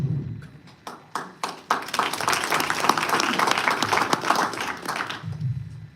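An audience at an IL-15 congressional district candidate forum breaks into applause: a few scattered claps swell into a steady, fairly loud patter of many hands, then fade out.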